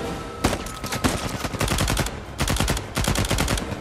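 Machine gun fired in short bursts in the video game Uncharted 4, several quick loud rattling volleys separated by brief gaps, close and alone.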